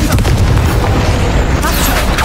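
Confringo explosion spell cast in the video game Hogwarts Legacy: a loud, deep booming blast with rumbling low end that fills the whole short moment, with a voice shouting the spell's name.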